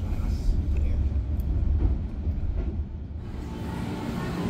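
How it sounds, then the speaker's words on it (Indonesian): Motis Utara passenger train arriving at Tanah Abang station, a steady low rumble of rolling wagons close by under a noisy platform, with faint voices in the background. "saat ini kereta api Kalimaya, maksud saya Motis Utara baru saja tiba di stasiun Tanah Abang"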